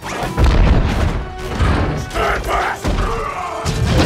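Loud, rumbling film explosions, blasts and crashing booms following one another with barely a pause, dense and continuous, with heavy low-end thuds throughout.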